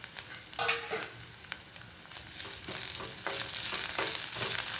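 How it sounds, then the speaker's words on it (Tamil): Grated coconut roasts in a hot pan with sesame seeds in residual heat after the stove is turned off, giving a soft steady sizzle under repeated close scraping stirs, with no talk. "இந்த சூட்லேயே வந்து இந்த தேங்காய் வந்து வறுத்து எடுத்துக்கலாம்."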